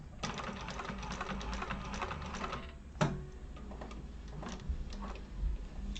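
A hand-cranked sewing machine stitches slowly around the corners of a Neo Crossbody bag, giving close, steady mechanical ticking and clatter with a sharp knock partway through.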